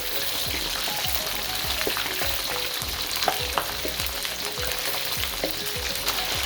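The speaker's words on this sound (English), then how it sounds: "Wait until the chicken is floating in the oil with fewer bubbles popping up" Chicken pieces deep-frying in hot oil for orange chicken, a dense, continuous bubbling sizzle with frequent small pops, close and steady, no talking.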